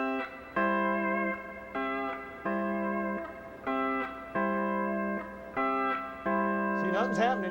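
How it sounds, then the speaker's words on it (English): A pedal steel guitar in E9th tuning played with pick blocking, a series of about eight crisp chords, each struck cleanly and damped short, with a brief sliding bar swell at the end. "Now watch, I'll block down here."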